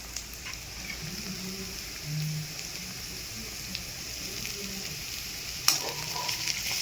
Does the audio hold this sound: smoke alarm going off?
no